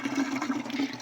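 Soapy wash water from hand-laundering clothes drains away in a steady, close gushing rush, like a flush, continuous and unbroken with no voices over it.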